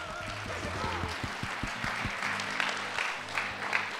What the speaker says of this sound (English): Let's continue with a big round of applause from you.